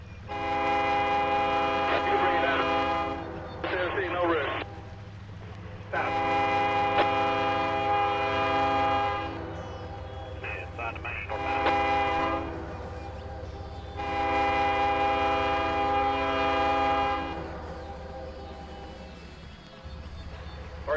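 In the Trainz video game, a coal train's multi-tone horn sounds in three long blasts with short bursts between, over a steady low locomotive rumble, each blast trailing into echo.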